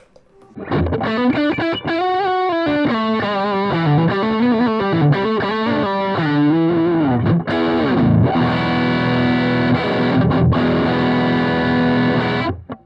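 Heavily distorted electric guitar on the neck pickup plays a quick melodic run, then lets loud sustained chords ring out. It sounds close and full, with no voices.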